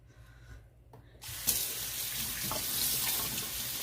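Cool tap water runs hard into a kitchen sink as beef steak is rinsed, a steady broadband splashing that starts abruptly and continues loud and close, with brief clatter near the start.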